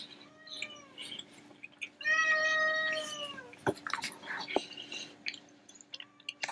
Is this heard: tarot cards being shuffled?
no